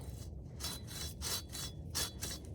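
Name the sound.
pruning saw cutting through a tree branch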